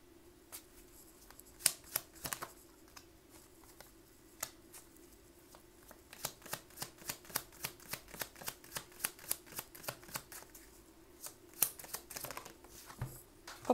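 A deck of tarot cards is shuffled during a card reading, giving quiet, close riffling and shuffling bursts that come in quick rhythmic clusters, sparse at first and then denser through the middle.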